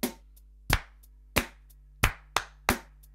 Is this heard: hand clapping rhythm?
yes